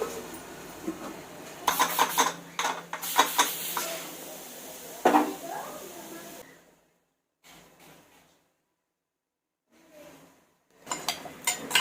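Pot of Tamil-style goat trotter curry (aattukaal kuzhambu) with tomatoes, clattering and stirred before a lid goes on: scraping and metallic clinks in bursts over the first six seconds, then near silence with a few faint knocks and a last clatter.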